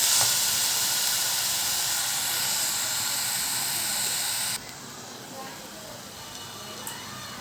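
Ginger garlic paste sautés in a pan for a Kerala-style mutton gravy, giving a loud, even sizzling hiss that drops noticeably quieter partway through and then keeps going steadily.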